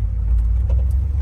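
A 1990 Jeep Grand Wagoneer driving on a two-lane road, giving a steady, loud, deep engine and road rumble heard from inside the cabin, with no talk.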